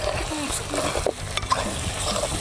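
Country chicken fries in oil in a pan with a busy, close sizzle broken by a few clatters of a spoon or lid over a brief stretch.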